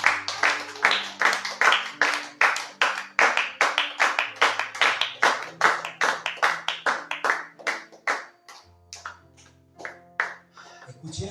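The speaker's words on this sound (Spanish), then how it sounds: "usted a Él dele una ofrenda de aplausos" Church congregation giving an offering of applause, heard as rhythmic, evenly spaced group claps in unison, a steady beat that gradually thins and softens toward the end, with low sustained tones underneath.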